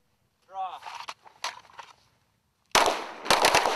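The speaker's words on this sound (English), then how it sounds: "they're also getting the chance to shoot weapons they may have only seen on a video game" Gunfire from weapons in marksmanship training at a range, likely a Mark 17 SCAR Heavy, Glock pistols or modified M4 rifles, with a few sharp reports followed by a loud, dense cluster of shots after a short gap.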